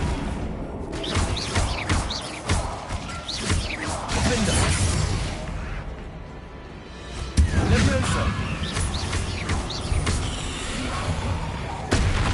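Spell effects in Hogwarts Legacy crash and whoosh through a busy battle, with sharp impacts, swishes and rumbling blasts layered densely over one another while a voice speaks at times.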